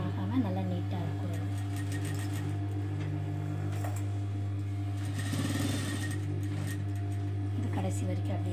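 A domestic sewing machine runs steadily, topstitching a crop top made from jeans fabric, with a continuous motor hum and faint needle ticking beneath intermittent speech.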